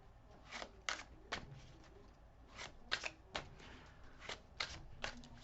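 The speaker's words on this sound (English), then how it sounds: "I'm shuffling my way." Tarot cards being shuffled by hand, a series of soft papery riffles and slaps in uneven bursts, close and fairly quiet, with no talking.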